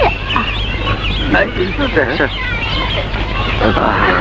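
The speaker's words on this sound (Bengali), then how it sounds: "মুরগি" Chickens cluck and squawk close by in a steady, busy stream of calls, with people's voices mixed in.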